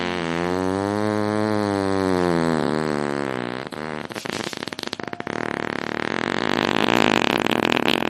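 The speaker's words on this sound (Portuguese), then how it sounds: "Dona, com esse motor de popa ligado, a gente chega ligeirinho!" An outboard motor on a canoe drones loudly and continuously, its pitch wavering and sputtering midway before settling back into a steady buzzing roar.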